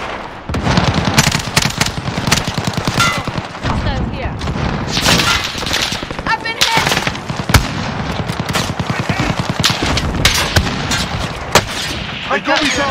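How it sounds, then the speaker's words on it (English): Intense gunfire fills a Call of Duty Warzone payload match, with dense automatic bursts, scattered single shots and occasional heavier booms running continuously, loud and close, while game voice lines sound intermittently among the shooting. "Receiving hostile fire."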